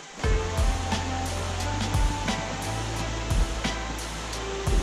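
Steady rushing water of a stream crossing on a winter mountain hike fills the scene, a broad continuous roar flowing close by, with a few brief splashy bursts.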